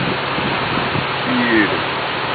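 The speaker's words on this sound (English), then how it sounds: "just in case you're really hooked on waterfalls, there's another one." Waterfall at Milford Sound in New Zealand, a continuous broad rushing wash of falling water heard from a boat, with faint engine or wind noise underneath.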